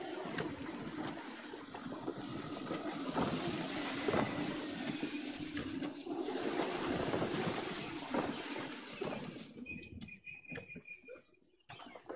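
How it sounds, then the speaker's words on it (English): Strong gusting wind at sea whooshes steadily around a sailing ship in Assassin's Creed 3, with creaking hull and waves beneath, easing toward the end as a faint tone appears. "Gusty winds can be difficult to manage."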